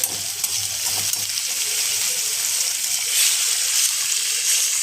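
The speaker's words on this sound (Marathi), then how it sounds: "टाकलं आपण पाणी" Water poured into a hot pan of frying spring onion greens sets off a loud, steady hiss and sizzle that stays continuous and close throughout, with no voices.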